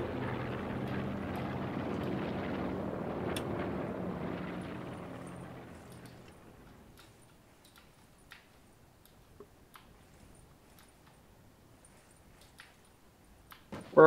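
Airplane passing overhead in the Call of Duty Black Ops 4 Blackout battle royale game, a broad engine roar that holds steady for several seconds and then fades into distance, leaving faint scattered ticks and clicks.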